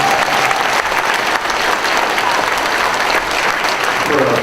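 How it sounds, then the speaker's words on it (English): Sustained, dense applause from a school audience at a fifth grade graduation farewell, steady and loud throughout with no pauses. "Let's give them a round of applause too."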